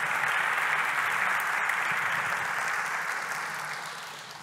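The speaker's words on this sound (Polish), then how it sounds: "Duże brawa" Dense audience applause at an academic year inauguration ceremony, a steady wash of clapping from a large crowd that holds loud throughout and tapers slightly toward the end.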